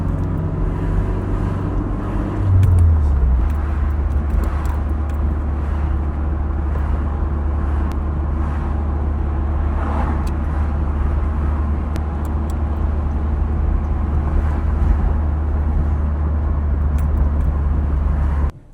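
A mint-condition Nissan 240SX drives along with a steady, low engine drone and road rumble heard from inside the car, including a brief pitch shift early on and faint clicks throughout, with no talking.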